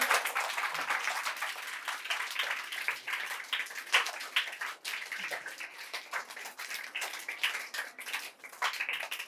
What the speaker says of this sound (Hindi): तालियों से इस्तकबाल करिए आप सभी लोग।